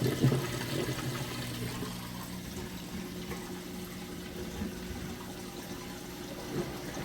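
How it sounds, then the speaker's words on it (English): A Whirlpool Cabrio top-load washing machine drains water in a steady, rushing, gurgling flow with a low pump hum, continuous and close throughout. "But just wanted you to get a listen to that drain."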